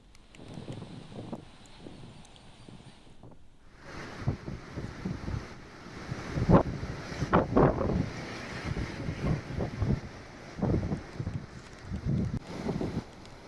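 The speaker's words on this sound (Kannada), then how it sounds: "ಈ ನಿರಂತರ ಮಳೆಗೆ ತುಂಗಭದ್ರಾ ನದಿ ಉಕ್ಕಿ ಹರಿತಾ ಇದೆ" Rushing water of the flooded Tungabhadra river at Hampi during heavy rain, a steady broadband roar with gusting wind buffeting the microphone, growing louder and rougher after a brief lull near the start.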